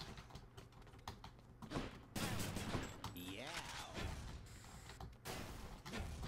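A gun fires in the action game Hades as rapid, clattering bursts of shots. They mix with clicks and sliding game effects in a busy, uneven stream of sound.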